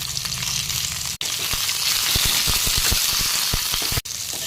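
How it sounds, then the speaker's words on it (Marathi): Peanuts, garlic, chillies, tomato and sesame seeds roast in a hot pan with a loud, steady sizzle and frequent sharp crackles and pops, broken by two brief gaps. "शेंगदाणे व्यवस्थित भाजूया। ह्याच्यामध्ये लसूण टाकूया, 4 मिरच्या, टोमॅटो आणि शेवटी थोडे तीळ टाकूया।"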